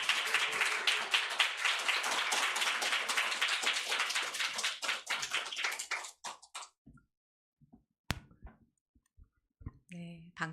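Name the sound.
congregation applauding to welcome a pastor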